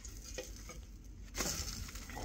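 Butter melts in a pan in a camper kitchen ahead of duck egg pumpkin spice French toast, giving a steady, soft sizzle and hiss that swells briefly midway, with no talking.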